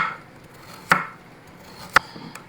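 Two sharp knife chops on carrots against a cutting board, about a second apart, with a fainter tap at the end, close and quiet with no talking.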